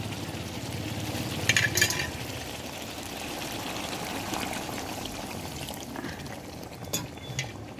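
Water is poured into a hot frying pan and stirred. It gives a steady hissing sizzle and bubbling, with a few brief clinks of the utensil against the pan and no talking.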